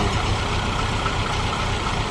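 A Volvo 740 engine with an intake manifold leak, a loud close mechanical drone holding a steady rough note with no pauses.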